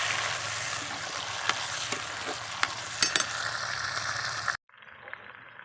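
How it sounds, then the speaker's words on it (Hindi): Tomatoes and green chillies fry in a pan for a village-style turnip and spinach dish, a steady close sizzle with scattered sharp crackles and pops before cutting abruptly to a quieter hiss near the end. "टमाटर और हरी मिर्च शामिल करने के बाद हम इसको अब 2 मिनट तक इसमें अच्छे से फ्राई कर लेंगे"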